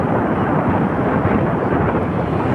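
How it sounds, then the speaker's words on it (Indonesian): Heavy rain pours at Bener Meriah in the highlands during extreme weather with low visibility, a dense, steady roar with deep rumbling underneath like distant thunder, loud and continuous without speech. "hujan."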